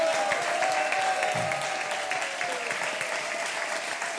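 A studio audience claps for two game-show contestants on a French radio program, a loud, dense applause that holds evenly throughout, with a faint tone running beneath it.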